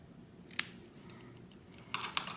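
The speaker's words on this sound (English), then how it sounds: "I'm just gonna go ahead and grab my scissors so I can cut these" Scissors snip through cotton wick while an Augvape Merlin Nano MTL RTA coil is prepared: one crisp, close cut, a pause, then two quick snips in a quiet room.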